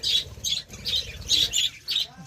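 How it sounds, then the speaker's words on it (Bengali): Several harsh, piercing squawks from frightened sun conures repeat in quick bursts, loud and close, with a soft rustling or scratching underneath. "পাখিগুলো খুব ভয়তে চিল্লাচ্ছে"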